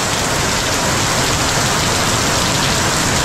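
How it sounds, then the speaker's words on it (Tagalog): Heavy rain falls steadily over a large tank at a welding site, a dense, loud, unbroken hiss with no pauses and no talking. "tuloy-tuloy pa rin po yung ulan"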